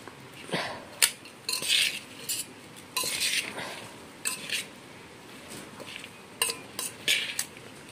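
Cut raw mango pieces are tossed with chili powder and salt in a bowl, with repeated close clinks and scrapes of a spoon against the dish, plus wet squishing between strokes.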